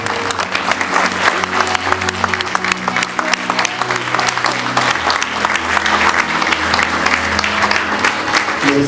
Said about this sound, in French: Merci beaucoup d'applaudir l'Afrique.